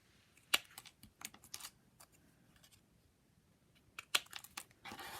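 Clippers trimming card for a triple card kit, giving a handful of quick close snips and crisp crunches spaced irregularly, with soft paper handling and a brief rustle at the end, no voices.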